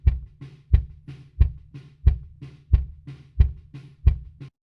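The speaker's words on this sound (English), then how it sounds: "let's have a listen to the kick in microphone" A kick drum heard through a kick-in microphone, eight punchy, evenly spaced thumps with quieter drum-kit bleed between them, dry and close with no voices.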